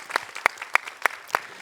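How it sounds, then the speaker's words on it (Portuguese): Sparse clapping at a spiritual gathering, a handful of distinct, evenly spaced claps about every third of a second, fairly faint and isolated rather than a full crowd ovation. "para quem eu peço uma salva de palmas"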